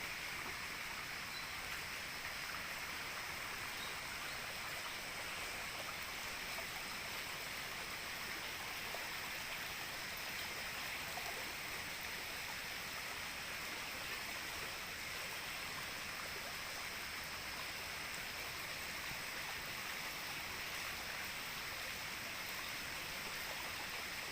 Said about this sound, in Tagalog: Parang palakas ng palakas yung tubig, no?